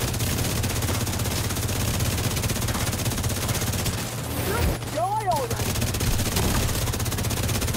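Sustained automatic gunfire in The Division 2, a dense continuous rattle of shots running nearly throughout, with a brief dip partway where other game effects sweep through.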